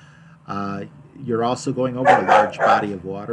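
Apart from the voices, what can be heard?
dogs barking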